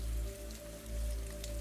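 Rain falls steadily and softly in a quiet, continuous patter, with a low hum and faint tonal drone beneath it; a brief brighter tap lands at the very end.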